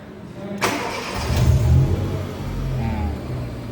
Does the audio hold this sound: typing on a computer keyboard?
no